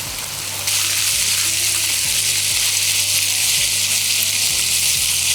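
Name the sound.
okra frying in pan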